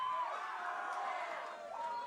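A crowd at a university League of Legends esports match between UQ and QUT cheers and whoops steadily, a dense, moderately distant roar that holds evenly throughout.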